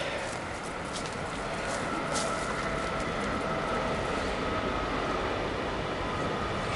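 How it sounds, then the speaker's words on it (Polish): A continuous heavy rumble and clatter of an Intercity train rolling past close by in Katowice-Szopienice, steady and loud throughout with rhythmic rattling. "pociąg przejechał."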